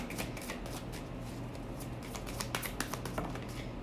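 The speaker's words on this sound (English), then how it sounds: "let's get a couple more cards here" Tarot cards being shuffled and drawn by hand, a close, soft run of riffling and flicking card sounds throughout.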